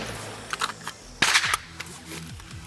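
Several rifle shots fired from a prone position with a red dot sight, sharp cracks spaced across the clip with one louder report in the middle, heard fairly close with no talking.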